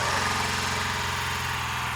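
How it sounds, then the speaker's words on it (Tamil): BMW automatic adventure motorcycle engine running steadily right after starting, a close, loud, even mechanical drone with a low exhaust rumble, no voices. "Exhaust note கேட்போமே. ஸ்டார்ட்."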